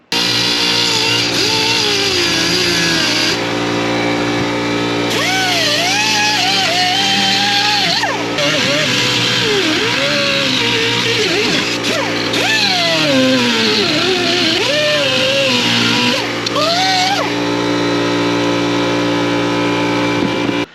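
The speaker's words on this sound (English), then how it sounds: "I'm gonna go ahead and fix this with a little saw disc, and I'm gonna cut it all the way up here" A small saw disc cuts into a plastic air intake on a sixth-generation Camaro, making a loud, continuous high whine whose pitch dips and rises as the blade bites and frees up.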